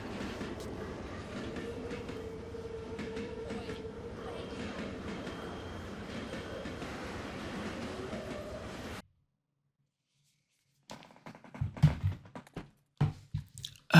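A train runs through Fallout London, a steady rumbling rolling noise with rail clatter for about nine seconds. It then cuts to silence, followed by scattered, uneven knocks and movement sounds.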